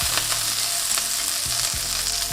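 Juicy Lucy burger patty sizzling loudly in a hot pan right after being flipped, a close, continuous fry with crackles and a brief scraping shift of the patty near the end.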